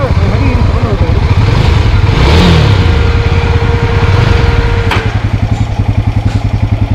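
A Yezdi Scrambler motorcycle engine idles roughly with a loud, uneven throb that sags and falters as if about to stall, under a faint voice.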